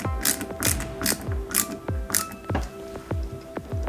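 A screwdriver turns a small AM03 screw into a part of a 1/8-scale Jaguar E-Type model car kit, with close, repeated ratcheting clicks and light tapping in a steady rhythm.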